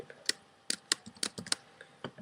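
Several quick keyboard keystrokes tapping out in an uneven burst, close and fairly quiet, with short pauses between clusters of clicks.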